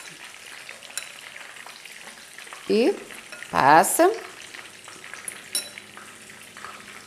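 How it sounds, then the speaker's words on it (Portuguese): Breaded meatballs frying in a pan, a low steady sizzle running throughout, faint and close, with someone speaking briefly over it. "E vamos fritando."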